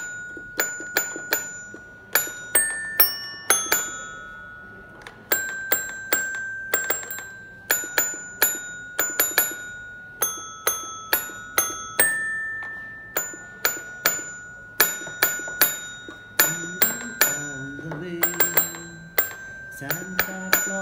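A child plays the Jingle Bells tune as bright, chiming electronic notes at a steady pace, likely on a toy keyboard, with a few lower sliding tones near the end and no talking.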